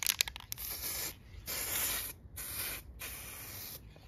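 Thin green RAL paint sprayed onto a car part for a Ford Escort Mk5 RS2000, in close, loud hissing bursts with short pauses between passes.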